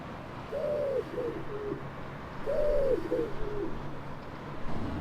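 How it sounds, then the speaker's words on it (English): Pigeons in Carlisle city centre give two clear bursts of soft, rolling coos nearby, set against faint urban background noise. "the pigeon population has boomed in Carlisle city centre"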